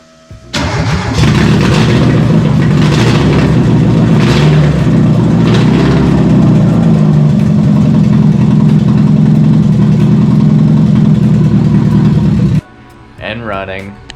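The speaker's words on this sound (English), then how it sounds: "I recently got this Mazda Miata engine started up." A Mazda Miata 1.6L engine swapped into a Triumph Spitfire cranks, catches and runs loud and close for about eleven seconds, a rough idle with some revving, then cuts off before a brief voice.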